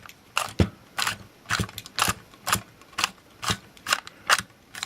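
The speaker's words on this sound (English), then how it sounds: "We're winding the film back into the housing off the take-up spool" Film being wound back into the housing of a Voigtlander Vitomatic IIa camera: a steady run of about ten ratcheting mechanical clicks at a regular rhythm, close and crisp.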